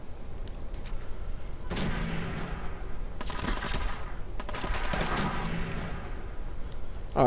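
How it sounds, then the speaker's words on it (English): Automatic pistol fire in Fallout 4: loud, rapid bursts of shots repeat in several clusters over a steady game background, with no talking. "I got the automatic on this pistol"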